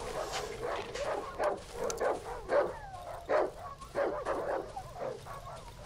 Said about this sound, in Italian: Guarda quanti cani.